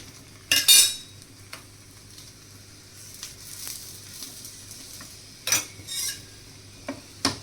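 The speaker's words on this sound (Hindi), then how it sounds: "देखिए पराठे को हम दबा दबा कर सेक रहे हैं।" A gobhi paratha roasting on a tawa with ghee, pressed down again and again so that sharp bursts of sizzling rise in short spurts over a quiet background, with faint utensil clicks between.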